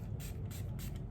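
Milani Make It Last setting spray hisses out of the bottle in three quick, evenly spaced bursts, close to the microphone over a low background rumble.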